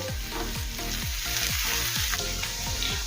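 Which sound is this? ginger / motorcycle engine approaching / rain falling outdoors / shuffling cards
ginger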